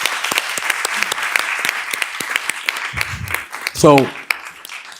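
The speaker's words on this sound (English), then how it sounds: "We need to give them a round of applause, too." Scattered clapping fills a board of education meeting room, a round of applause from the audience with sharp individual claps, while a voice speaks briefly over it.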